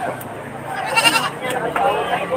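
Goats bleat at a livestock market, a couple of close, wavering calls rising over a busy background with people talking nearby.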